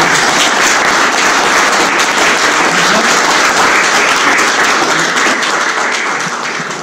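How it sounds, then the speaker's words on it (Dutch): A hall audience at a reception for a fanfare band's 150th anniversary, held at the old town hall of Zandvliet, bursts into loud, sustained applause that thins out slightly toward the end. "geef jullie zelf gerust een applaus hiervoor"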